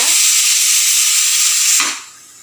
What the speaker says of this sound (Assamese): এনেকৈ নমাই নিদিলে চিটি বাজি থাকে